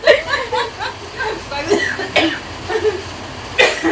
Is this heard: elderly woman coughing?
yes